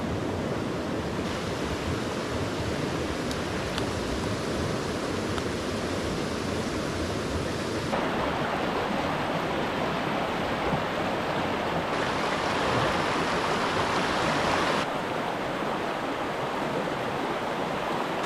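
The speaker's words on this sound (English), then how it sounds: "This is a Pennsylvania wilderness stream" Cold Pennsylvania wilderness stream rushing past close by, a loud continuous broadband wash of flowing water with no voices.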